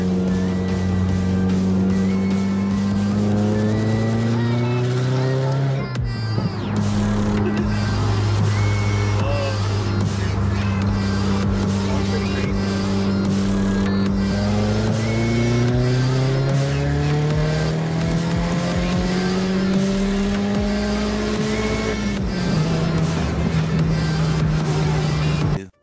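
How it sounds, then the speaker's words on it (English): Turbocharged 2019 Subaru WRX making hard acceleration pulls on a freeway, its engine droning loud and close as revs climb in long sweeps through repeated gear changes, with no talk over it. "So we on the freeway, we're gonna do a little bit pulls and then we're gonna do our dyno pull after."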